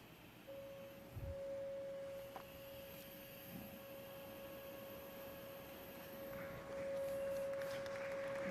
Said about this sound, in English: let's play a 550 hertz frequency and watch what happens.